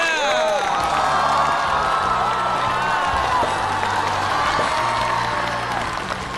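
Audience at a comedy show breaking into loud sustained applause mixed with cheering and whoops, a dense crowd roar that holds steady and fades slightly at the end.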